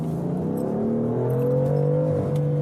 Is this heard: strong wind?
no